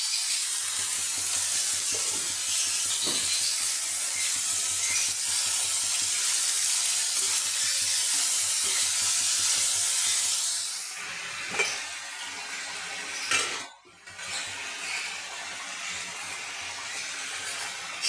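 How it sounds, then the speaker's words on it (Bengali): Cabbage frying with salt in a pan gives off a steady, loud sizzling hiss that runs unbroken for about eleven seconds, then thins out with a few clatters and a brief dip toward the end. No one speaks. "বাঁধাকপিটা নুন দিয়ে ভেজে নেব"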